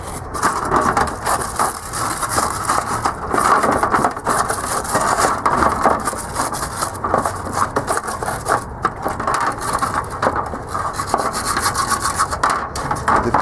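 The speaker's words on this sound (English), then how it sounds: "I'm just going to take a brush" Nylon-bristle brush scrubbing paint or grime on a steel dump trailer before a Rustoleum paint job, a continuous close, loud, rough rubbing scrape with steady back-and-forth strokes and no talking.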